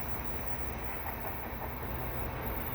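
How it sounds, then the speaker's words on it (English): Tail end of a CN mixed freight train of gondolas and tank cars rolling west beneath a bridge at the Dorval ramps, a steady broadband rumble and hiss holding level throughout without clear wheel clicks. "that's the end of this train, heading west underneath the bridge"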